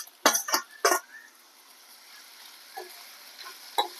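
Ginger-garlic paste frying in a pan: a few quick scraping stirs at the start, then a faint, soft sizzle with occasional light taps, close and quiet.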